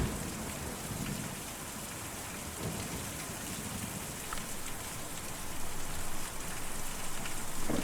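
Steady, dense rainfall from the video game Kentucky Route Zero, a constant close wash of drops hitting surfaces with low rumbling underneath, slightly swelling toward the end, with no voices.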